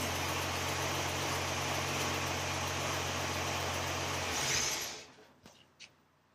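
A Toyota FJ40 engine fitted with a Holley Sniper fuel injection runs steadily at idle with a loud, even rumble, then shuts off abruptly, leaving a few faint clicks.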